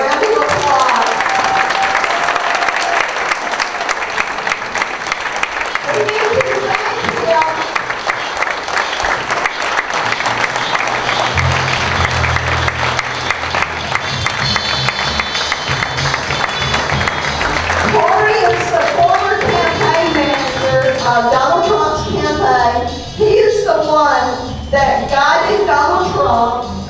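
Sustained crowd applause fills a political rally for a congressional candidate, dense and loud throughout, with voices and cheering rising through the clapping in the later part.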